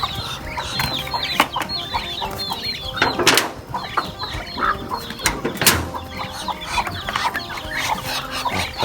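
Chickens on a small farm where ducks and chickens are raised, clucking and squawking close by with some wing flapping and bursts of louder rustling, continuous and busy throughout.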